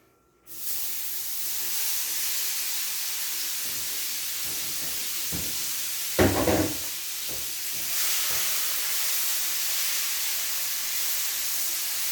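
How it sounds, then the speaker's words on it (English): Steak sears in a hot pan with a loud, steady sizzling hiss that flares up briefly midway and then carries on alone. "Then we can throw it on the pan."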